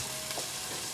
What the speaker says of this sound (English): Let's start by putting our onion into the pan. It needs to stay there till it's quite browned